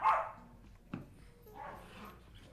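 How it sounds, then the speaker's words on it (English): Dogs barking in Minecraft, one sharp bark at the start, then a second shorter yelp and softer whimpering yips, fairly quiet. "I'm hearing a lot of barking."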